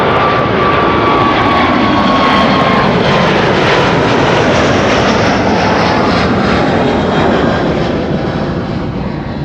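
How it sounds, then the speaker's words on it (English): A Delta Air Lines Airbus A350 jet taking off from Amsterdam Schiphol, a loud, steady roar of jet engines filling the whole stretch with a faint whine on top, no voices over it. "this is Delta Airlines, flight 161, returning to Minneapolis, Minnesota."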